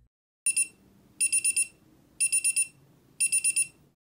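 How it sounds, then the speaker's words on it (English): A small cube timer's alarm sounds in four bursts, each a rapid run of about four sharp, high, loud beeps, separated by short silent gaps. "This is a cube timer."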